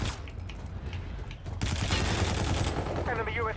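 Rapid bursts of automatic gunfire from a Call of Duty: Infinite Warfare match crackle steadily at mid distance, building denser after the first second and continuing without pause.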